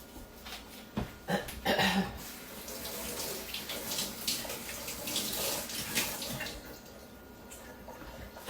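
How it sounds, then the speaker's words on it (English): Running tap water splashes steadily over a vinyl cooking glove being rinsed in a kitchen sink, a continuous close hiss with brief louder surges of splashing near the start. "Now I'm going to rinse this glove off."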